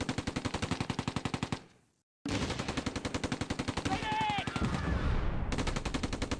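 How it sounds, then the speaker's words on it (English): Video game battle between a 17-pounder anti-tank gun and a Mark IV tank: rapid, evenly spaced machine-gun bursts, loud and close, broken by a short silent gap before the firing resumes, mixed with faint shouting. "Both sides open fire simultaneously."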